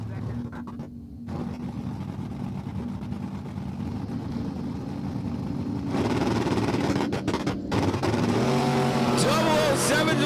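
Super Pro drag race cars at Empire Dragway: a continuous loud engine roar that swells in the second half, with an announcer talking over it.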